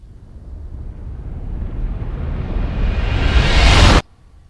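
A swelling orchestral string sound played in reverse, growing steadily louder and brighter before cutting off abruptly, followed by near silence.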